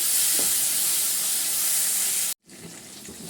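Chopped tomatoes sauté in a hot pan, a bright steady sizzle and hiss that cuts out briefly, then resumes more quietly.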